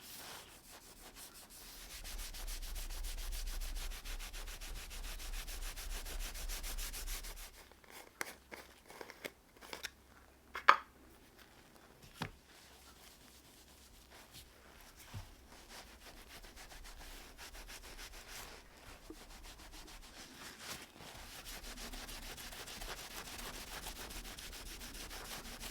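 The sliding-section skates of a Record No 405 multi-plane being abraded by hand, heard as faint, continuous rubbing and scraping strokes with a few sharper clicks, fairly quiet throughout.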